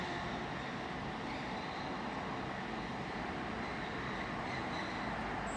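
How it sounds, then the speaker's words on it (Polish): An Intercity passenger train rolls into Gliwice station with a steady, broad rumble of wheels and carriages, constant and moderately distant, with no voices heard. "mamy wjazd pociągu Intercity Morcinek z Lubina i Kielc do Gliwic"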